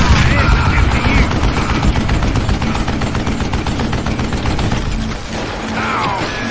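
Gunfire in the Western shooter video game Call of Juarez, with loud rapid bursts of shots and mechanical clatter that ease off near the end as a reload sets in.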